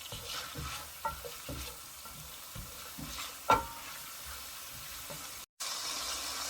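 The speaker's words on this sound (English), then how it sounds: "fry your potatoes and carrots before, but I don't think there's a need for it, so I just go ahead and saute it" Potatoes and carrots sauté in a pan for a beef shank mechado, a steady soft sizzle under repeated scraping stirs of a utensil, with one sharper clink partway through.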